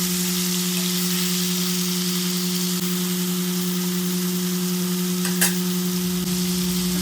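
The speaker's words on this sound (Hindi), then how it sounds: "तो हमने भरी हुई सारी तुरई कढ़ाई में डाल दी है और अब इसको चलाएँगे हल्के हल्के हाथों से।" Stuffed ridge gourd fries in oil in a kadai while being stirred gently, a steady close sizzle over a constant electrical hum, with one brief scraping stir partway through.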